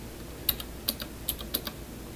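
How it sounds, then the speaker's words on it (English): A handful of quick computer keyboard keystrokes as a command is typed in a terminal, sharp close clicks in a short irregular burst with no talk. "Type DOW and then press tab."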